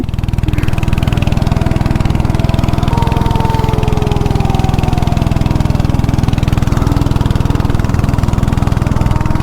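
A small go-kart engine on a track in Tirupati idles steadily and loudly, a close, even, rapid putter running without a break throughout.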